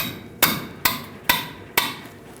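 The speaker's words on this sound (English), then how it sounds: "I'm going to shock it loose because ours is pretty rusty." A hammer strikes a line wrench four times to shock loose a rusty brake line fitting at the wheel cylinder of a 2004-2012 Chevrolet Colorado, each blow a sharp, close metallic clank evenly spaced about half a second apart.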